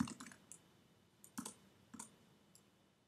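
A computer mouse clicks and keyboard keys tap in a few quick, sharp bursts close by in a quiet room, with short pauses between them.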